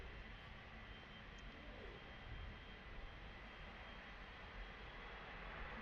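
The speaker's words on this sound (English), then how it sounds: "As Qantas begins their roll to Adelaide." A Qantas jet starts its takeoff roll for Adelaide at Perth airport, its engine roar a steady, distant wash of broadband noise that holds evenly throughout with no talk over it.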